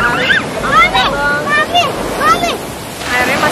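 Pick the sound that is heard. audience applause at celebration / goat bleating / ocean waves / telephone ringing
ocean waves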